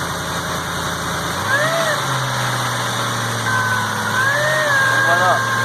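A freshly rebuilt Navigator 5.4 3V engine idles steadily and close by, rising twice in short throttle blips before settling back to a smooth idle, with a faint whine running underneath.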